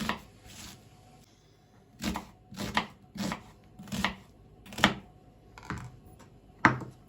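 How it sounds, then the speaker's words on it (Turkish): A knife chops onions into large pieces on a cutting board, about eight distinct thunks spaced in a loose, unhurried rhythm, close to the microphone. "Soğanlarımı da iri iri doğrayacağım"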